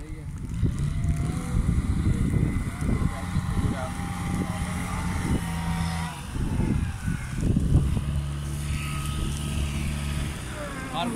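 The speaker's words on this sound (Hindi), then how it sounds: "ये देखें बर्फ हटाने वाले जो हैं ट्रैक्टर और ट्रेन और जो जितनी भी मशीनरी है वो इनकी मुकम्मल काम कर रही है।" Snow removal tractors and other machinery work through a German snowfall, their engines a steady low rumble with rising and falling revs, close and loud, while someone talks over them.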